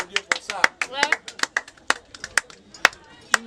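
Scattered hand claps from a small audience at a gathering of fans in Boma, Belgium, sharp irregular slaps spread over a few seconds, with voices and cheering mixed beneath.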